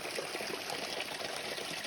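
Steady close rush and trickle of a clean, clear mountain stream at a final water point on the climb to Pedra da Mina, Brazil, continuous and fairly loud with no talking.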